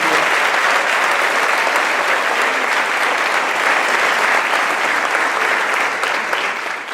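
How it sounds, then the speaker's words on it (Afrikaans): A school audience claps for prefects at a ceremony, sustained dense applause from a large crowd that stays loud and steady, easing slightly at the very end. "kom ons gee dit vir hulle nog 'n hande klap"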